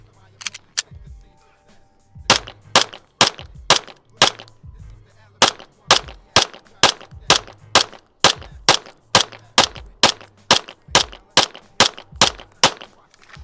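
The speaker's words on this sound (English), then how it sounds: "I'll shoot it with a looser grip now, so you can kind of see a difference of what that might look like." A pistol fires about twenty loud, sharp shots at a steady, moderate pace with a loose grip, close by, with one brief pause early on.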